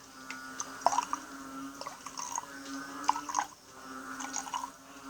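Water trickles and splashes into a drink, a quiet, uneven pour with small drips and gurgles under a faint steady hum, with no talking.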